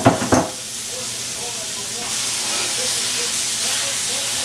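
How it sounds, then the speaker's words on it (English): A couple of quick thumps, then a loud, steady sizzle of meat for chili frying in a hot pan, hissing continuously and swelling slightly midway. "The big sizzle."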